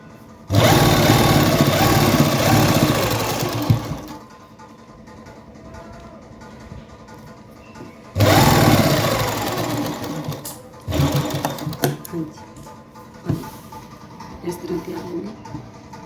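Sewing machine stitching lace onto a garment sleeve runs in two loud, steady bursts, then gives shorter intermittent whirs with quiet pauses between them.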